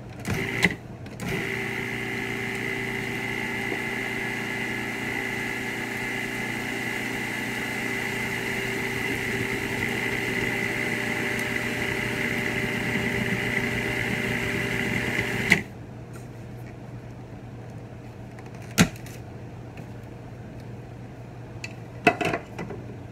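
A food processor mixes vanilla shortbread tart dough with a steady, even motor whir for about fifteen seconds, then cuts off, leaving quiet with a few light clatters.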